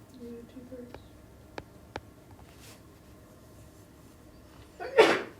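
A single sharp sneeze bursts out near the end of a quiet precalculus classroom lecture, preceded by faint murmuring and a couple of small clicks.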